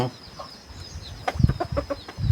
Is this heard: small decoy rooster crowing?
yes